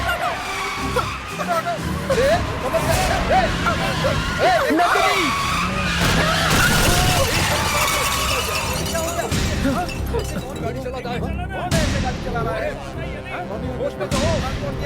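A car brakes hard with squealing, skidding tires on a road in a TV drama scene, mixed with loud music and shouting voices throughout.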